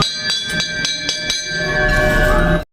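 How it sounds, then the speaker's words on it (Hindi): A temple bell rings out several times in quick succession, bright and resonant, with its ringing tone sustaining and overlapping before cutting off abruptly. "चलो घंटी बजा लेते"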